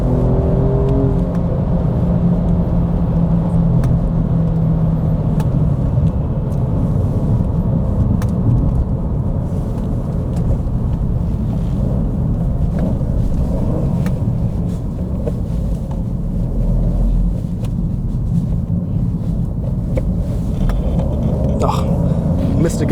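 An Alfa Romeo Giulia Quadrifoglio accelerates flat-out on a racetrack lap, its engine roaring in a sustained, rising drone with wind and road rumble, and someone speaks over it.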